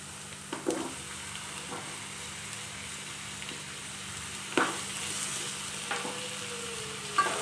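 Chopped onions fry in a pan for tomato chitranna, a low steady sizzle running throughout with a few sharp clicks and scrapes of a spoon against the pan, no voices.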